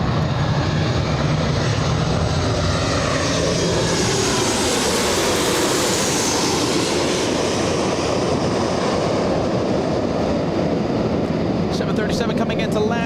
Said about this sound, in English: Coming into land.